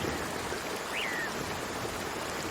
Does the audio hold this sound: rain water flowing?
yes